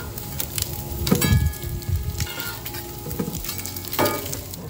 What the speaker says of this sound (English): with the thin bacon, you don't wanna wait too long, so I'm gonna turn it now